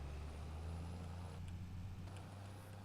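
Farm truck engine in a farming video game, a low, steady drone holding an even pitch, close and fairly quiet, with a few faint clicks near the end.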